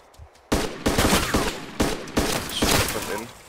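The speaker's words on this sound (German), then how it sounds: "Schüsse. Schüsse von außen." Gunfire in the video game DayZ: several sharp, loud bursts of rapid shots cracking one after another, with faint voices in the background.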